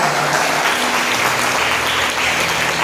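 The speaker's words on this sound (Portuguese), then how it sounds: "vamos aplaudir bem forte ao Senhor Jesus" A church congregation applauds loudly during a Portuguese-language worship service, dense sustained clapping filling the room steadily from start to finish.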